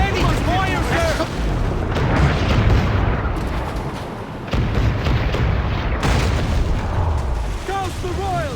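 Naval battle in Assassin's Creed IV Black Flag, with repeated booming cannon and mortar blasts and rumbling explosions over continuous battle din, while voices shout and birdlike calls are heard.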